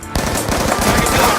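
An MTAR assault rifle fires a rapid fully automatic burst in Black Ops 2, loud close shots in a fast even rhythm lasting just over a second.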